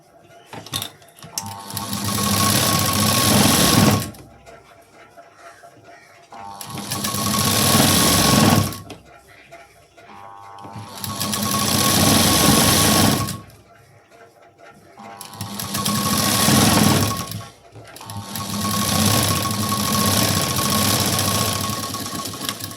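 A sewing machine stitches a lining strip onto a blouse sleeve in four long bursts of loud, rapid mechanical whirring and clatter, separated by short quiet pauses while the fabric is repositioned.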